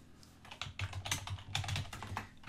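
Rapid typing on a computer keyboard while writing an email message: close, crisp clusters of key clicks in an uneven flurry, with no talking.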